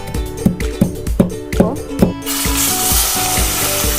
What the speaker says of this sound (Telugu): ఈ గ్యాప్లో మనం చికెన్ ఫ్రై చేసేసుకుందాం.